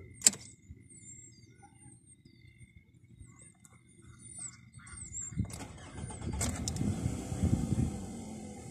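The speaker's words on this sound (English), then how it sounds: "Now, let's listen to this engine start up." A Toyota Camry 4-cylinder engine starts: quiet ambience with birdsong, then a starter whir and the engine catching around midway, settling into a louder steady idle.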